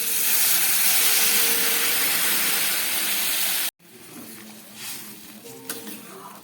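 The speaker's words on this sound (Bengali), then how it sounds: "এবার আমি এর মধ্যে দিয়ে দিচ্ছি উষ্ণ গরম জল" Warm water poured into fried spice paste in a pot for a fresh fish curry, a loud steady sizzling hiss that stops abruptly, followed by quieter bubbling and simmering.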